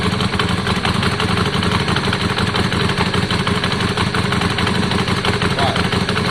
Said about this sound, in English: Now we adjust the air fuel screws, and all we're listening for is, does the engine note get louder?